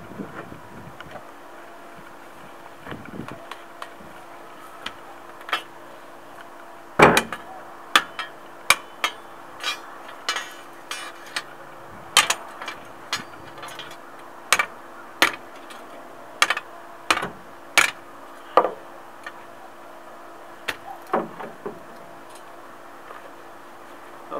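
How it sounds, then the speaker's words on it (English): A sledgehammer strikes a homemade metal boat anchor about fifteen times in a fairly steady rhythm, each blow a sharp, close clank over faint outdoor background noise. "so I'm going to hit it with a, with a hammer."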